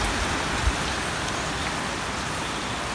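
Heavy rain pours down in a garden full of ornamental trees, a loud, dense, unbroken roar of rain with one brief low thump near the start.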